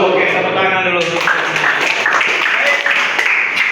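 Students in a classroom lesson break into applause, a steady crackle of many clapping hands heard under a teacher's voice talking over it.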